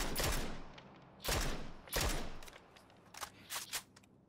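Gunshots in the battle-royale game PUBG: a few sharp reports spaced about a second apart, then a quicker cluster of shots, each with a short echoing tail, fairly close.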